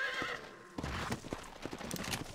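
A horse in the Red Dead Redemption video game whinnies at the start, then its hooves clip-clop in a quick, uneven rhythm, fairly close but quiet overall.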